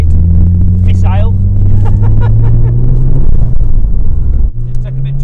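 A Vauxhall Astra van with a Saab engine making 432 bhp drives with a loud, close engine drone whose pitch climbs steadily, drops briefly, then picks up again, while people talk over it inside.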